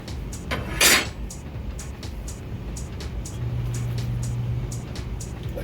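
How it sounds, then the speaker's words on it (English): The vibrating hopper on a pellet stove gives a low, steady hum lasting about a second and a half midway, over a noisy room with faint, regular ticking throughout. "I might have said that I have a vibrating hopper on my pellet stove,"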